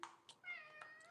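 A hungry cat meows indoors, a short near sequence of two or three quick mews followed by a longer drawn-out meow, fairly soft and without talk.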